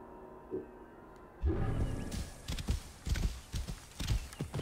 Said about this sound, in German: das Pferd hier in dem Spiel knallt einfach durch den Zaun durch